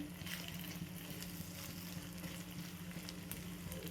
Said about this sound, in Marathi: तेल गरम झाल्यानंतर छान परतून घ्यायचं